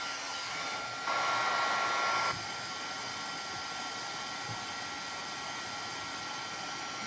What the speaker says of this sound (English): Or that heat gun. It's not a heat embosser.